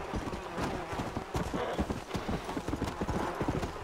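Horse hooves clip-clop steadily at a walking pace in Red Dead Redemption Undead Nightmare, a continuous run of close hoofbeats over a dense, noisy background.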